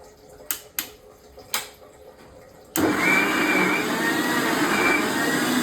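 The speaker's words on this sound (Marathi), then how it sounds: "आता हे सगळ्याला मिक्स करतील मिक्सरवर." A mixer grinder starts abruptly partway through, blending green juice ingredients with a steady, loud whirring roar after a few sharp taps and knocks in the quiet before.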